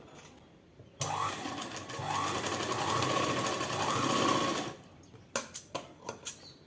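A tailoring sewing machine stitches a neck cross piece with thread piping, running in one steady, fairly close whirring burst of about four seconds, then a few soft clicks and handling taps.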